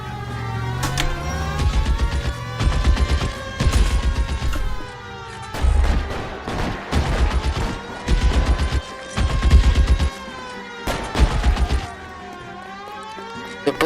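Gunshots crack in a police shootout in L.A. Noire, loud bursts of firing in clustered volleys separated by short pauses, with whining ricochet-like tones between shots, no talking.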